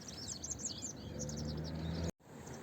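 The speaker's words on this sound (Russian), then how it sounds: "Где-то птички щебечут." Birds twitter faintly in a quick, busy series outdoors in spring among flowering lilac bushes, heard over a steady low rumble of background noise.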